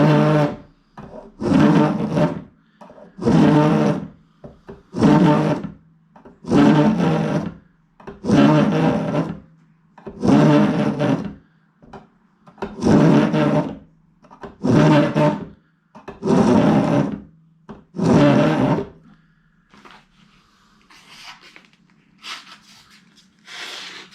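Kitchen knife drawn repeatedly through an AnySharp pull-through sharpener, about eleven loud, evenly spaced rasping strokes, each a second or so long, with a faint quieter scrape at the end.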